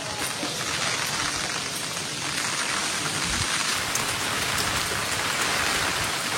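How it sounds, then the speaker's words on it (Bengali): Heavy rain falling steadily and loud, a dense continuous hiss of drops on surfaces with no pauses and no voices. "আর দেখুন এখন আবার জোরে বৃষ্টি এসে গেছে"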